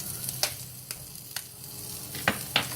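Butter sizzles softly in a frying pan with bread, while an egg is cracked in and a few sharp clicks and taps land over the steady frying hiss.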